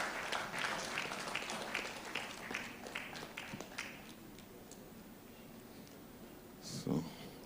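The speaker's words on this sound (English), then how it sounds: "Please give her a round of applause" Applause at an investiture ceremony for an honorary fellow, moderately loud at first and then tapering into scattered claps and room noise, with a brief bump near the end.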